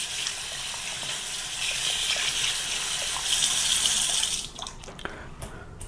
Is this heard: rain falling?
no